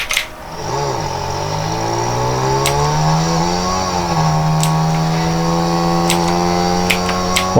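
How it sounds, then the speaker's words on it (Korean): A motorcycle engine in a video game accelerates smoothly, its pitch climbing and holding as the bike speeds along a road, loud and continuous with a few faint clicks on top. "와, 오토바이 잘 나가요."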